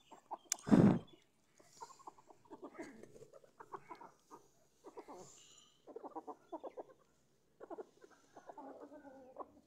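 Black hens being fed warm roti give soft, repeated clucks in short bursts, nearby and moderately quiet, with one sharp loud squawk near the start.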